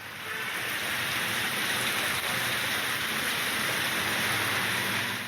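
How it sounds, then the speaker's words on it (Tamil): Heavy summer rain pours down over city streets in Tamil Nadu, a dense, steady hiss of downpour that stays loud and unbroken throughout, with no voices. "மாநகர பகுதிகளில் மதியத்திற்கு மேல் கனமழை பெய்தது"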